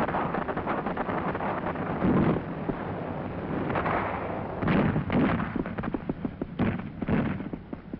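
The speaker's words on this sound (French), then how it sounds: "Les hommes tirent." Gunfire during street fighting among bullet-riddled façades and barricades as tanks pass, heard in an old wartime newsreel: a dense, continuous rumble of shots with sharper bursts and reports toward the end, muffled and band-limited.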